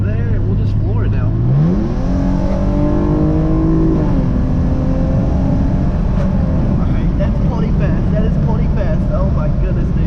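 A tuned Hyundai Genesis Coupe 3.8 V6 goes to full throttle from a rolling start: a steady cruise drone sweeps upward into a loud, rising engine howl that climbs and then holds, with someone talking over it.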